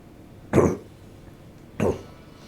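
A man gives two short, separate coughs about a second apart, close to the microphone in an otherwise quiet room.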